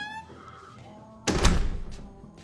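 A single heavy knock on a counter in a TV drama scene lands as a solid, close thunk with a short decaying rumble, after a quiet stretch with a faint tonal background.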